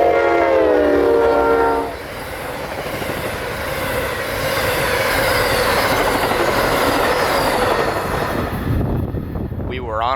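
An Amtrak Train 91 passenger train sounds a loud, sustained horn chord for about two seconds, then roars past close by with heavy rumbling wheels and rail noise that continues steadily to the end.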